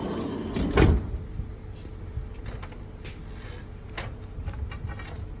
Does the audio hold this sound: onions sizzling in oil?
no